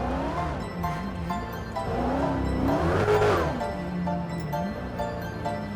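Supercharged V8 of a 2021 Dodge Challenger SRT Hellcat Redeye in a driving video game, revving up and down in repeated sweeping pulls, with a loud climb near the middle before settling back, heard alone without talk.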